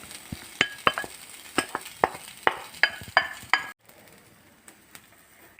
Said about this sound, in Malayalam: ചിക്കൻ കറിക്ക് ആവശ്യമായ തേങ്ങ നമുക്ക് വറുത്തെടുക്കാം